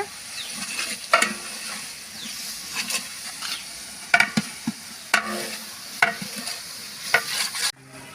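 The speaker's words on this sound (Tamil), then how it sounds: "கைவிடாமல் நல்லா கலந்து விட்டுட்டே இருங்க" Ginger garlic paste being stirred in a large pot while cooking beef dum biryani, with a quiet steady sizzle under repeated scraping strokes of a spoon against the pot, close and unaccompanied by voices.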